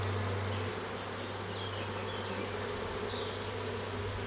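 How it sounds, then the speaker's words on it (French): Honey bees buzzing at an apiary hive, a dense continuous drone of many insects at close range with a steady low hum, no voices. "il y a encore des abeilles"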